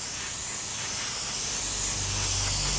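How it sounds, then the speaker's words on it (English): An airbrush at low air pressure sprays a first coat of paint onto a scale model, giving a steady, even hiss that builds slightly and runs throughout with no talk. "I'm just going to spray all over here a nice first coat,"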